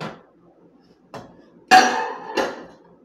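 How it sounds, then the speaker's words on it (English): Several sharp clattering knocks come from a plate as a burrito is slammed onto it and set in a microwave: one faint tap, then two loud ceramic clanks with brief ringing. "slam this into the plate and put it in the microwave for 40 seconds"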